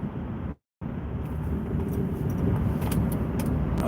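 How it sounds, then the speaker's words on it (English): A car passing on a road, a loud, steady engine and tyre rumble up close, with a brief dropout near the start. "Okay, traffic."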